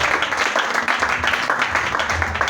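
A church congregation applauds, a steady dense patter of clapping that runs without a break, with voices mixed in underneath.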